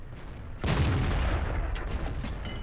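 S35 CA tank destroyer cannon firing in World of Tanks: a single sudden heavy blast about half a second in, followed by a rumbling, rolling decay and faint crackling debris, with no talking.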